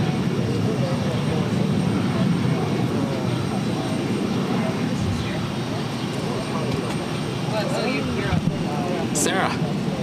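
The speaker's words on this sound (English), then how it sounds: "This is American Airlines 1776 taking off to Philadelphia on the A319." An American Airlines A319 taking off from Boston Logan gives a sustained, fairly distant engine roar, with people talking nearby over it.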